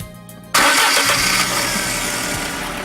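A fuel-injected Fiat Tempra engine cranks briefly and catches, then settles into a steady, loud idle that carries on without any voices.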